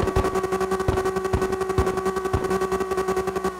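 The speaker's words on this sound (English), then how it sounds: "Instead, CarX car sounds sound like this." A car engine in the drift game CarX Drift Racing revs in a rapid, stuttering buzz, with steady pulsing bursts and a strong constant tone running loud through the whole stretch, with no talk.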